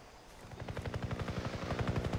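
A helicopter's rotor in Far Cry 3 thumps in a fast, steady rhythm, loud and close, with a low mechanical drone underneath and no voices.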